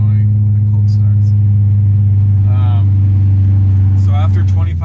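A supercharged BMW E92 M3 with an ESS 625 kit runs loudly at idle, a dense, droning engine note that holds steady throughout while someone talks over it.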